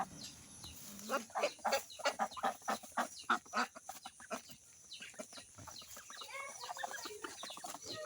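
Chickens clucking in short, irregular bursts, fairly near, over a steady hiss of background noise with no talking; four village hens on a farm.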